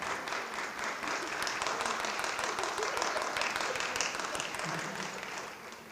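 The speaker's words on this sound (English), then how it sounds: "you all give a round of applause to them out there" An audience at a high school fall band concert applauds steadily, dense clapping building and sustaining for several seconds before easing slightly at the end.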